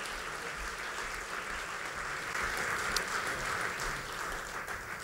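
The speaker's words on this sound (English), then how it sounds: "If we could all give them a huge round of applause for everything that they do in our community." An audience at a community volunteer awards event applauds in a steady, dense wash of clapping that swells slightly midway and carries on without talk, sounding moderately distant.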